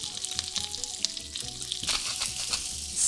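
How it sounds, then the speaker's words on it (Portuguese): Fennel browning in a hot pan gives a loud, continuous crackling sizzle with bursts of spitting and brief stirring scrapes, close and alone. "E vamos dourar o nosso fennel."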